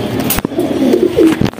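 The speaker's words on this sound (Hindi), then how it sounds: "बहुत वीआईपी कबूतर है" A pigeon coos softly up close, low throaty burbling notes, with a few brief rustles or taps around it.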